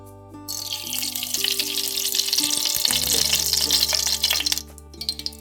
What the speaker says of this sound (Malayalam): ഞാനൊരു പാൻ അടുപ്പത്ത് വെച്ചിട്ടുണ്ട് ഇതിലേക്ക് നമുക്ക് നെയ്യ് ഒഴിച്ചു കൊടുക്കാം